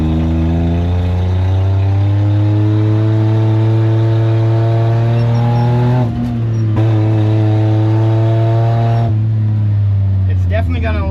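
A rusty Daihatsu Hi-Jet small truck engine revs up hard and holds at a steady high pitch, bouncing off its electric rev limiter, with a brief dip partway through before climbing again.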